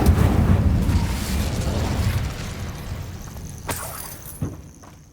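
An Incendio fire spell from Hogwarts Legacy ignites with a loud, roaring blast that crackles and slowly fades, with a couple of sharp bursts near the end.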